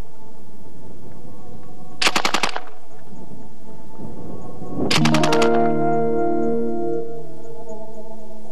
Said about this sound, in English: The C9 maintains continuous fire as long as the trigger is held to the rear.